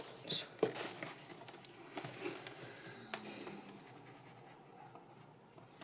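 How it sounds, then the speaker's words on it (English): Pen moving over paper while writing study notes by hand, soft scratchy strokes and small taps, quiet and close, with faint room noise and no speech. "Let me write it first"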